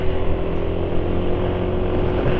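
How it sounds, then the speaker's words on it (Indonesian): A rough-running two-stroke motorcycle engine on Evalu 2T oil drones steadily and close, with a harsh, buzzing tone and no talk over it. "ini tapi suara mesin termasuk sudah agak kasar"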